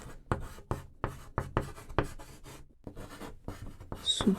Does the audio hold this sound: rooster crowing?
no